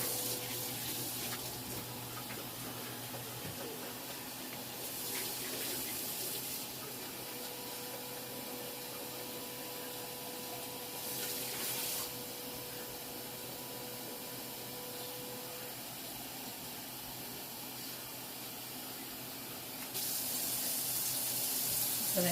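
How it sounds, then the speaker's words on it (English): Hot water runs from a kitchen tap into a pan of potatoes being prepared for roasting, a quiet steady hiss and trickle with a few brief louder surges. "And I'm going to add hot water."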